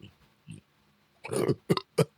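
A person burps deeply and gutturally after holding it in. One quiet, close, drawn-out belch is followed by two shorter gulping bursts, with a few faint small sounds before it.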